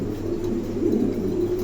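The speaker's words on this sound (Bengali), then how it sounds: "দর্শক এখানে দেখেন আর এক জোড়া কবুতর" A pair of pigeons, one a silver-coloured male, coo steadily at close range, a low soft rolling murmur that continues without a break and with no voices over it.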